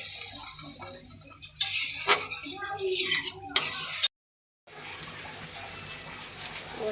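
Water splashes and pours into a pan of bitter gourd and potato curry cooked with shing fish, a loud gush for a couple of seconds before a short cutoff, then a softer steady simmering hiss.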